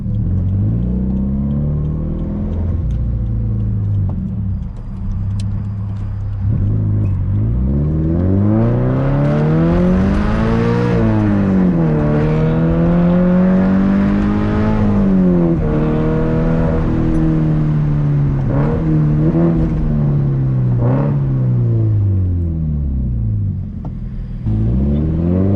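Scion FR-S engine heard from inside the car while driving, a loud steady drone that repeatedly climbs and falls in pitch as it accelerates and shifts gears.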